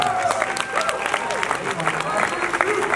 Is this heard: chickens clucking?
no